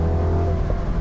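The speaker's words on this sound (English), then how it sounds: "The burbles and crackles from this car make it faster." A 2022 Mini John Cooper Works convertible's turbo engine drones loud and close, its exhaust rumbling with a brief crackle near the end and no talk.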